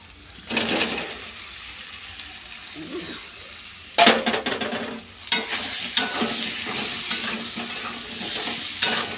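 Potatoes and egg sautéed in a pan, stirred repeatedly with a spatula. The sizzle and frying noise starts quiet, then grows louder and sharper with bursts of scraping and clattering against the pan, and holds steady to the end.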